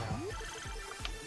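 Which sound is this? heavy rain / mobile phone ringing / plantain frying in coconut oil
mobile phone ringing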